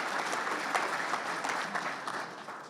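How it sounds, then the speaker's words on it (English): An audience at a dedication ceremony for a technology education center gives a round of applause, a dense and even wash of clapping that fades slightly toward the end. "Would you please give them a big round of applause as well?"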